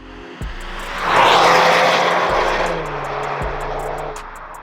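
A 2022-or-newer Subaru WRX fitted with an Invidia Q300 axle-back exhaust drives past. Its engine note swells to a loud, smooth roar, then eases into a steady, moderately strong drone, with a few low thumps along the way.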